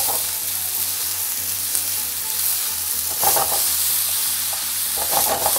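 Broccoli and vegetables sizzling steadily in a pan after a little stock is added, a continuous close hiss with a few faint stirring scrapes.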